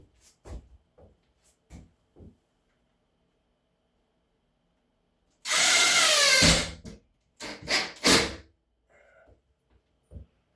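A power drill drives screws into drywall in short whirring bursts, one longer run followed by a couple of quick ones, separated by quiet gaps with faint handling knocks.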